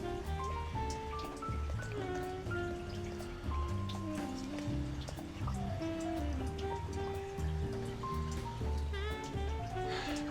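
Mineral-rich water drips and trickles steadily at the Knaresborough petrifying well, a dense patter like rain falling on a surface, continuous and moderately close, with no talk.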